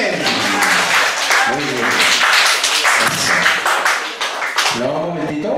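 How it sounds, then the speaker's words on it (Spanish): Loud clapping from a studio audience on a Spanish-language game show breaks out beneath a host's voice, busy and bursting in short waves while he keeps talking over it. "un aplauso fuerte para mi amiga"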